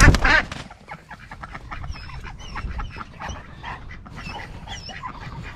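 A loud burst of ducks quacking inside a moving transport vehicle at the start, then scattered softer quacks and calls over a rumbling background.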